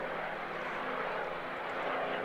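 A propeller-driven airplane passes over at a UK airshow, its steady engine drone broad and continuous throughout, moderately close with no pauses.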